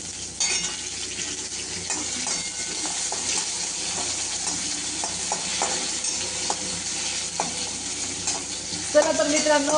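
Onion and tomato cook in a pan with a steady close sizzle, broken by scattered clinks and scrapes of a spoon stirring against the pan, continuous and moderately loud with no voices.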